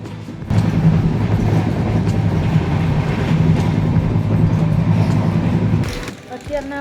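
A train rumbles steadily nearby for several seconds with a low droning hum, then the noise cuts off abruptly near the end.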